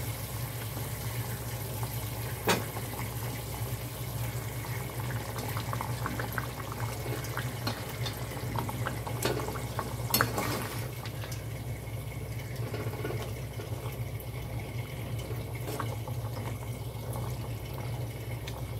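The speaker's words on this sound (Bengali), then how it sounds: "এবার আমি আস্তে আস্তে করে এক একে কোপ্তাগুলিকে সব দিয়ে দেবো এর মধ্যে" Chicken kofta curry bubbling steadily in a pot as koftas are added one by one, a continuous low simmering hiss with a few soft clicks and knocks of utensils against the pan throughout.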